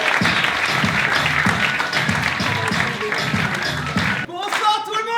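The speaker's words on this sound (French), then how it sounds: "Les amis, faites du bruit s'il vous plaît pour la première partie." A French comedy-show crowd cheers and claps loudly for several seconds, dense and continuous, then the noise cuts off and a voice begins speaking over a quieter room.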